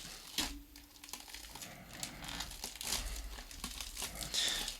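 Pages of a book are handled and torn, with close crinkling and rustling paper and a few sharp ripping sounds in irregular bursts, quiet and without talk.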